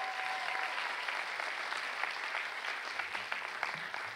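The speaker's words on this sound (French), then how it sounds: "Une main d'applaudissement!" Applause from the audience at a student talent show finale at Cégep de Trois-Rivières: steady dense clapping held throughout, fairly distant and even, with no talk over it.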